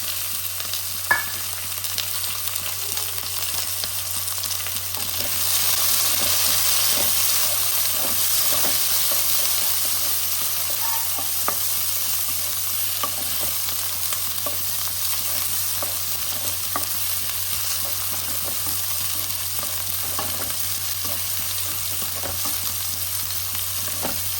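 Cumin seeds and onions sizzle in hot oil in a pan for a matar paneer bhurji, a steady, moderately loud frying hiss with scattered small crackles that swells slightly early on and stays even throughout, with no voices.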